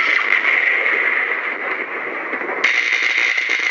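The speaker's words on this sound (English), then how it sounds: "So you have thunder and then crackling electricity." Lightsaber sound font powering on with thunder and crackling electricity: a dense crackling, buzzing hum with a rumbling undertone, shifting brighter and sharper near the end; no voices.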